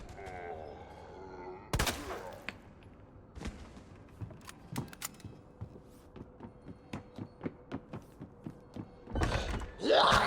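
Gunfire in the video game Resident Evil 2: a loud opening burst, then a run of sharp, evenly spaced shots and thuds, ending in another heavy burst.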